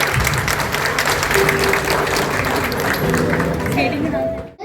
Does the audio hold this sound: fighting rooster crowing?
no